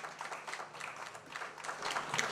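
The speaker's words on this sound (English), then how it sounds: "So give them a big round of applause." An outdoor crowd at an Independence Day celebration in Samoa claps for a team dressed in red, the applause faint and distant but continuous, with a brighter burst of clapping near the end.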